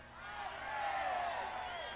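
A large festival crowd at Reggae Sunsplash in 1991, a broad distant roar of cheering and whoops that swells slightly and holds steady, with no clear single voice standing out.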